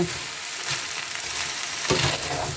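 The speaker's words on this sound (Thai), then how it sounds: "เราก็ผัดตามสไตล์เราเนาะ เราชอบแบบไหนผัดแบบนั้นนะคะ" Rice noodles with pork, soy sauce and plenty of vegetables are stir-fried in a pan, giving a loud, close sizzle with clattering, scraping tosses of a spatula and no speech.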